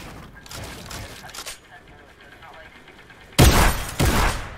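Video game gunshots during a live stream come as a couple of soft early bursts, then two loud close blasts near the end, with players' voices faintly present.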